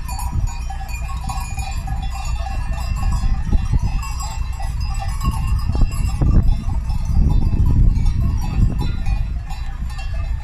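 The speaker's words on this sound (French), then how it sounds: "la manifestation de moutons, elle est devant la voiture" A flock of sheep bleating close by in front of a car, with clanking bells and a low rumble underneath as the animals mill around.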